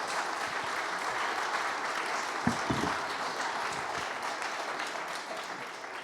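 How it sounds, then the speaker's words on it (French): Sustained audience applause after a round-table discussion at a summer university conference, broad steady clapping from a sizeable room with a few louder nearby claps midway. "Je vous propose d'applaudir bien fort nos intervenants."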